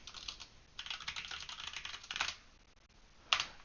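Rapid, close keystrokes clatter on a computer keyboard in irregular bursts, with a brief pause and one sharper key strike near the end, no voices.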